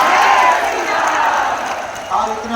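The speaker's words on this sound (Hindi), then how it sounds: "हम सब जोरदार ताली बजा करके खूब खूब स्वागत करें" A large crowd at a Mahashivratri mass wedding ceremony claps and cheers to welcome a guest, a broad wash of applause and voices that stays loud and steady throughout.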